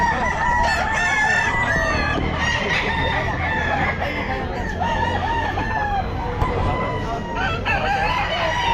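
Several stags crow at a busy pet market, their harsh, drawn-out calls overlapping among clucking fowl. A steady crowd murmur runs underneath throughout.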